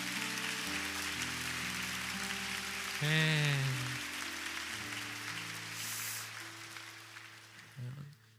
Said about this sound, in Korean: 우리 서로를 향해서 큰 격려의 박수, 축복의 박수를 좀 보내주시겠습니다